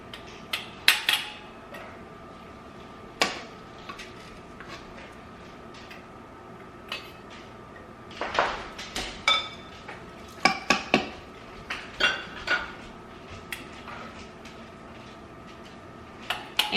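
Glass canning jars clink and tap on a kitchen counter while being packed with jalapenos, giving scattered sharp chinks, some single, some in quick clusters, with quiet gaps between.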